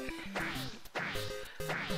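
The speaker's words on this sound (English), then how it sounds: "That's the sound of its jumps, by the way. It sounds like a gong." Jump sound effect from the Super Mario Maker video game, a gong-like metallic clang with bright ringing tones and falling pitches, repeated three times in a quick, even rhythm and heard alone.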